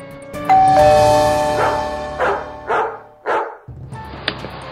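A dog barks loudly and close by, one long sustained bark followed by three shorter sharp barks in quick succession, then a brief quieter yip at the end.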